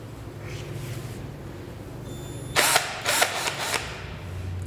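A Makita 21V cordless drill gives a few short, sharp whirring bursts in quick succession, close and fairly loud over a low background hum, with no talking.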